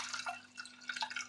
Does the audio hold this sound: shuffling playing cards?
no